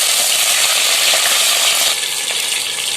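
Mustard seeds and curry leaves sizzle in hot oil for a chicken pepper roast, a steady, dense crackle that stays loud throughout and eases slightly near the end, with no voices.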